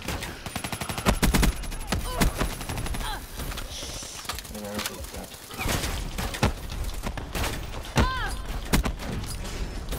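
Rapid bursts of gunfire and fusillades from the Call of Duty Black Ops III video game, dense and loud throughout with scattered impact effects, while a player talks over the action.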